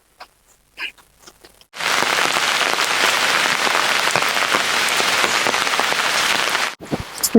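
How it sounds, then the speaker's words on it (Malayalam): Heavy rain hammers down as a loud, dense, steady hiss for about five seconds after a few faint clicks, then stops abruptly. "എന്ത് മഴയാ അത്!"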